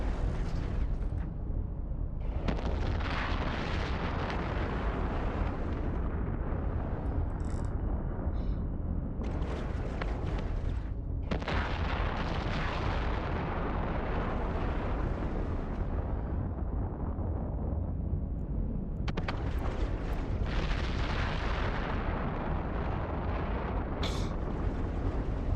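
Battleships blow up in the space game EVE Online, a continuous loud roar of explosions and booming bursts that rumbles on with brief dips, no voices over it.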